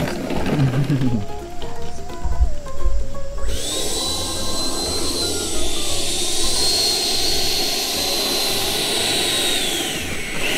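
A ducted-fan radio-controlled model jet flying and coming in to land, with a loud, high, whining fan tone that rises and shifts in pitch. Voices can be heard briefly over the whine.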